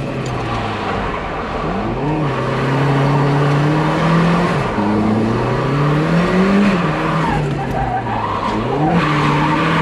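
A drifting car slides with long tire squeals and skids over a revving engine, the pitch rising and falling in repeated sweeps, loud and close throughout.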